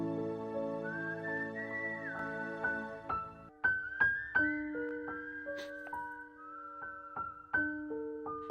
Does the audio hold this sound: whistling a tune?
yes